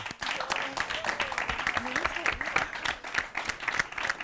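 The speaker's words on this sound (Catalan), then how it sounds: "Llàstima, aplaudim-la." Studio audience of a Catalan TV word game show applauding a contestant's exit, steady close clapping with cheers and a presenter's voice over it throughout.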